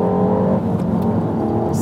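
A Peugeot 308 GTi engine, artificially generated through the car's speakers, plays as a loud, steady mid-low drone with a smooth engine hum that holds constant.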